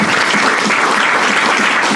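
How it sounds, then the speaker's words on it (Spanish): A church congregation at a Sunday service breaks into loud, continuous applause, a thick even roar of many hands clapping together. "Regálele un aplauso al Señor"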